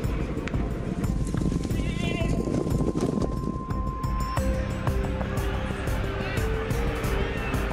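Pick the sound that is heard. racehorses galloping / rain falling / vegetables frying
racehorses galloping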